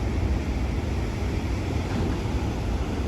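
Ocean waves roll in at a beach in Ramsgate, KwaZulu-Natal, giving a steady, dense roar of surf mixed with wind buffeting the microphone.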